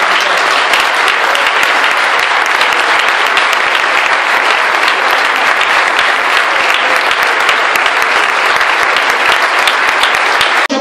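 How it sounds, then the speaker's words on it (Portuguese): Long, loud applause from a church congregation, steady dense clapping filling the whole stretch without a break, close and full, fading only at the very end. "que toda a igreja aplaudisse a Deus com um longo e forte aplauso"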